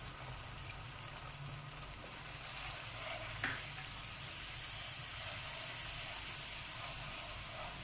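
Potatoes with turmeric and red chili frying lightly in a pan for aloo tahri, producing a soft, even sizzle and hiss that continues throughout without a break.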